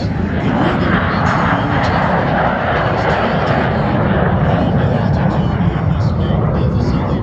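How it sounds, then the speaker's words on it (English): Korean War vintage Lockheed T-33 jet, the license-built Canadair CT-133, restored and rolling for takeoff at an airshow, its engine a loud, steady broadband roar throughout with an announcer talking over it. "magnificently restored Korean War vintage Lockheed T-33, license built by Canadair, the CT-133"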